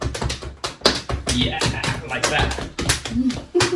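Body percussion played to sound happy: quick, bright claps and slaps in a lively, uneven rhythm, close and clear, with a person speaking briefly over the beats.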